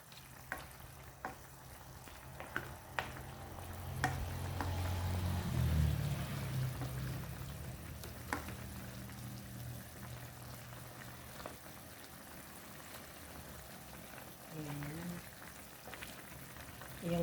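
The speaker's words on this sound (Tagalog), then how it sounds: "kumulo na" Chicken adobo cooked in Sprite bubbling and simmering in a pot, a steady soft sizzle and burble with a few clinks and faint voice in the background, swelling briefly in the middle.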